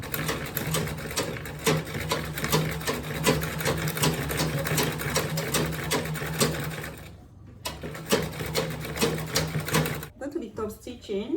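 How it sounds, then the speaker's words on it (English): A sewing machine stitches a quilted tote bag in a steady, fast mechanical whir that runs continuously for about seven seconds, pauses briefly, then resumes before stopping, with a voice speaking over it. "Then I'm going to sew now."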